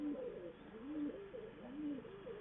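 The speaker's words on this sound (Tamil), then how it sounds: "இது காலனி கணேசன் புறாங்க." A pet pigeon coos in soft, rolling, repeated phrases, close and steady, in a pigeon loft, with faint room noise underneath.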